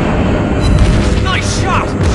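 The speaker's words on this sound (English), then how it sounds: "Target hit! We hit the enemy!" Shell impacts on an enemy ship in the mobile naval video game World of Warships Blitz, with the cruiser Des Moines firing, rumble as a continuous loud booming wash with chirping game effects on top.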